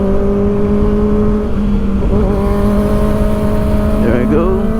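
Kawasaki Ninja ZX4-RR motorcycle engine droning steadily and loudly at high revs, with pitch rising near the end as it accelerates to overtake traffic on a road, under heavy wind noise.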